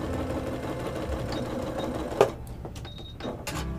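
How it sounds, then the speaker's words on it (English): A sewing machine running a line of stitching along a quilt seam while piecing, with a steady rapid mechanical chatter, close and loud, then a brief clunk and a short stop before it resumes. "we're just going to run a line of stitching"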